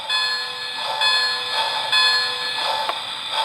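A bright, rapidly repeating metallic bell clangs steadily for a few seconds from a Lionel HO Polar Express Berkshire model locomotive, loud and close, with a constant electronic hum beneath.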